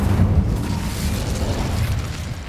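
An Incendio fire spell bursts in the Hogwarts Legacy video game with a loud, low rumbling whoosh of flame that rolls on steadily and fades slightly toward the end.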